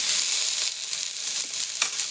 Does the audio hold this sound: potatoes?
yes